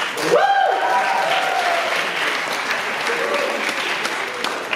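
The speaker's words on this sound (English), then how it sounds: "let's give a huge round of applause to our, for our amazing judges and our hilarious MCs" An audience at a Michigan's Got Talent show gives a loud, sustained round of applause for the judges and MCs, with a few cheers rising above the steady clapping.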